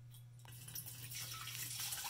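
Water is poured into a new fish tank as a steady, fairly faint splashing and rushing wash with a low hum beneath it, growing slightly fuller over about two seconds.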